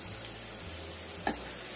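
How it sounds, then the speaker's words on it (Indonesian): Tempeh frying in a pan until fairly dry gives a faint, steady sizzle with a low hum beneath and one brief sharper crackle near the end. "Ini masih aku goreng terus sampai benar-benar"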